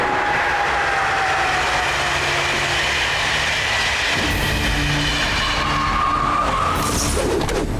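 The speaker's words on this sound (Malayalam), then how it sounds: "അവര് ട്രെയിൻ എടുത്തുകൊണ്ട് മുകളിലേക്ക് പോവാണ്" A cartoon train in a Motu Patlu episode climbing uphill along its rails, with a loud, continuous rumbling roar and metallic screeching tones that shift midway as the motion intensifies.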